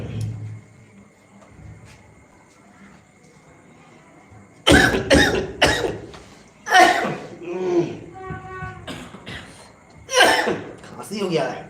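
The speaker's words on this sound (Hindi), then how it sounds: "खांसी हो गया है।" A run of loud, harsh coughs in quick bursts after a quiet start, with a few throaty breaths and short pauses between the fits.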